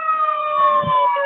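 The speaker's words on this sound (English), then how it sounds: "Sirens." A single wailing emergency siren sounds loud and close, its steady rising-and-falling tone held throughout the brief moment, with faint background noise underneath.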